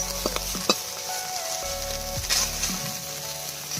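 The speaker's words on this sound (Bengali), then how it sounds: "মা খুন্তির কোনা দিয়ে ভালো করে নেড়ে নিচ্ছে, মাছগুলো ভাজা হচ্ছে কিনা ঠিক মতো দেখে নিচ্ছে।" Pakal fish fry in hot oil in a pan with a steady close sizzle, while a spatula scrapes and clicks against the pan as the pieces are turned; no one speaks.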